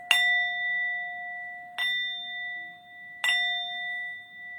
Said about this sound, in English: So finally at the gateway, you hear these 3 bells.